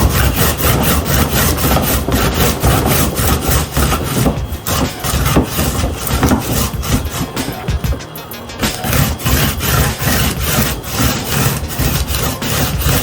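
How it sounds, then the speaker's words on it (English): A whole, skin-on ginger root rasps rapidly and continuously against a grater, loud and close, with a brief pause midway and no voices. "I have my whole ginger, all natural. I'm gonna grate it"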